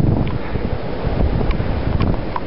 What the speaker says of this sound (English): That wind is just brutal.